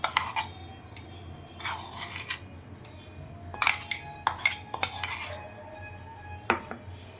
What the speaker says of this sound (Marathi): चांगलं मिक्स करून घ्यायचं. हातानेच मिक्स करायचा